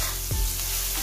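Tomatoes and onions sprinkled with salt sizzle steadily in a pan for a dhaba-style egg tadka, a close, even frying hiss with a brief stir-like thump near the middle.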